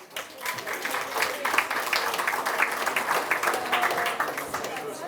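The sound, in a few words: audience applause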